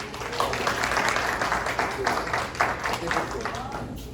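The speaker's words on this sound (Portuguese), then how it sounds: "Vamos receber com a salva de palmas?" Church audience giving a round of applause, a dense wash of clapping under a voice that speaks partway through.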